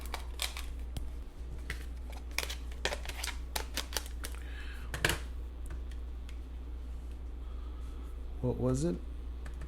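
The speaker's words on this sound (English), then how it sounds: "Let me check that with my handy dandy calculator." Calculator keys are tapped in a quick run of light, sharp clicks over a steady low hum, with a brief spoken question near the end.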